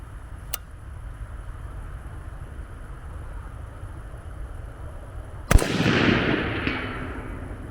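A BCA-10 rifle fitted with a TriggerTech drop-in trigger fires outdoors on a range. One sharp, loud shot cracks late and rolls off in a long echoing tail, after a faint click near the start.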